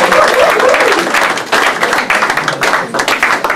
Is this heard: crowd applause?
yes